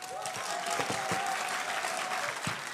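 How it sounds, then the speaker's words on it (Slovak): Audience applause at a live stage event, dense and steady clapping from a crowd that runs for a few seconds at moderate distance, with a voice faintly mixed in. "ešte raz mu dajte ten potlesk"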